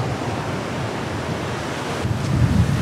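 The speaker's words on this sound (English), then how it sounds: "I love the sound of the ocean and the waves." Ocean waves wash steadily onto a beach in the Philippines, a continuous broadband rush with wind noise, swelling slightly louder near the end as a wave breaks closer.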